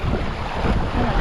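Choppy ocean water washes and slaps in a continuous, close rush, mixed with wind buffeting against the microphone for a brief moment.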